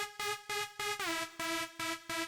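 A dry synth lead with no effects processing plays a short, repeating pattern of evenly pulsed notes with a brief downward pitch glide midway, fairly quiet and heard alone.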